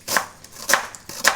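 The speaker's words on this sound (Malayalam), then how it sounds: "നന്നായി കുത്തി അരിയാണ്, കുഞ്ഞു ചെറുതാക്കി അരിഞ്ഞെടുക്കുക കേട്ടോ." Onions being chopped finely with a knife on a board, three sharp, evenly spaced taps close by with no talk.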